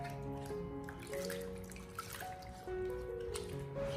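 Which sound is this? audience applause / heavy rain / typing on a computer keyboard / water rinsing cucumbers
water rinsing cucumbers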